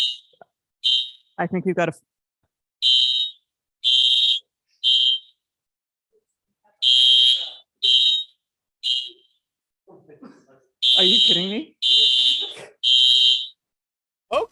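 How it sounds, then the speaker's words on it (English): A fire alarm goes off at a venue during a showcase event, sounding in loud, repeated high-pitched bursts separated by silence, while people speak in between. "We've got a fire alarm."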